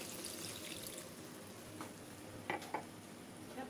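A mug of water poured into a pot of simmering chicken stew with tomatoes and alugbati greens, giving faint splashing and sizzling over a steady low background, with a couple of brief louder splashes near the end.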